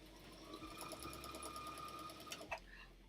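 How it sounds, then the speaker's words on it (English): A sewing machine runs steadily while stitching a keyhole buttonhole, a fast even whir with rhythmic needle ticks, close and fairly quiet, with a brief clunk near the end. "we're going to set our machine to a keyhole buttonhole"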